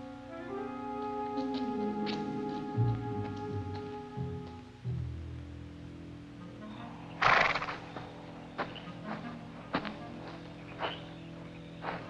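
A horse whinnies in a long, wavering call, followed by hoof clops and scattered knocks over quiet rustling background.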